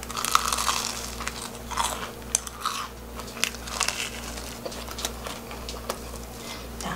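Someone bites and chews a freshly fried, sugar-coated twisted doughnut, with crisp crunching and crackly chewing close up in an irregular rhythm, and no talking.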